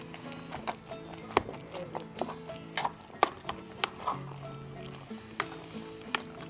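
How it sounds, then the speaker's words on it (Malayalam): A spoon stirs sardine and tapioca curry in a pan, knocking against the metal in scattered, irregular clacks over a soft background murmur, close by. "നമുക്ക് ഇളക്കാം."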